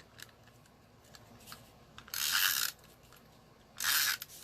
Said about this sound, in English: Tape runner.